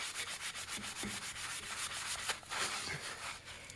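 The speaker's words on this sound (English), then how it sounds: "I'll be scrubbing it down with this" A brush scrubs down a Sears tractor in a quick, rhythmic back-and-forth rasping, close and fairly quiet, with occasional light knocks against the metal.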